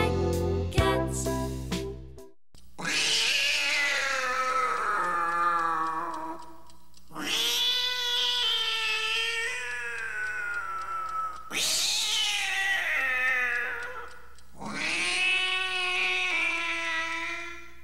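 A cat yowls and caterwauls in four long, loud, drawn-out cries separated by short pauses, preceded by a brief ticking sound.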